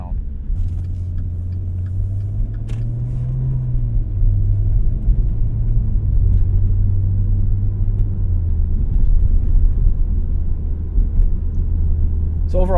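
A 2015 Maserati Ghibli S Q4 twin turbo cruises through town at an easy pace, its engine a steady low hum and road rumble throughout, with a slight rise and fall in pitch as it gently accelerates.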